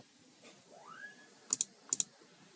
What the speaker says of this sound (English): Click on download for Windows.